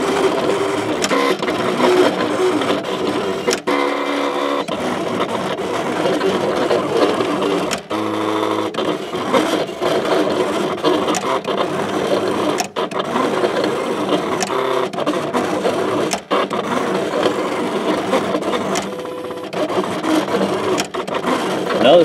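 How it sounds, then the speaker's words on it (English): Silhouette Cameo vinyl cutter working through a cut, its motor whirring and chattering in irregular bursts with short pauses and carriage shifts, fairly close and continuous, with faint talk underneath. "So our bundle's cutting out."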